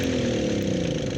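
A tractor engine in Farming Simulator 17 idles steadily with a low, continuous rumble and throbbing hum, no voices.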